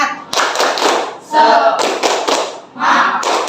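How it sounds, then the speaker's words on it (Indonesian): A classroom of students claps in quick rhythmic bursts during a spirit-clapping routine, loud and close, with short pauses between groups of claps and voices chanting along. "Kita tepuk semangat."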